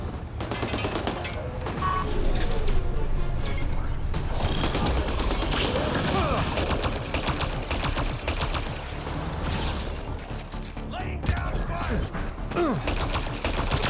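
Dense firefight gunfire from the game Mass Effect Andromeda, in an armed lab on Kadara, with rapid bursts and clattering shots running the whole stretch, loud and continuous, mixed with game effects and some voices.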